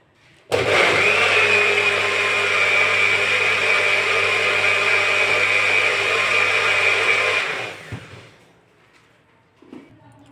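A kitchen mixer grinder blends peanut chutney in a loud, steady high whir that starts abruptly, holds for about seven seconds, then winds down and stops, followed by a couple of faint knocks.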